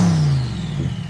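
A 6.2 liter twin-turbocharged big block V8 in a 1000 hp Bond-style car, a deep engine tone that rises and then settles back into a rumbling idle, loud and close, with no talk.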